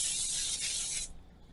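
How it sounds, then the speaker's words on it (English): Cooking spray hisses into a baking pan for brownies, one loud close continuous burst lasting about a second, then cutting off abruptly. "just give it a little spray."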